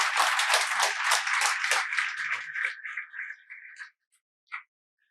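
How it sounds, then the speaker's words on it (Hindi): Audience applause for candidates selected as RPSC school lecturers, a lively burst of many hands clapping that thins out and fades over a few seconds, ending with a few last scattered claps. "तो एक बार जोरदार इन सब के लिए तालियां।"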